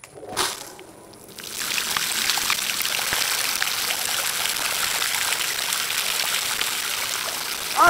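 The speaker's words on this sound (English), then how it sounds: "As it is pumping, the pump is moving about." Aerator pump running in a fish pond, churning up a steady loud splashing and gushing of water after a brief quieter start, close by and continuous.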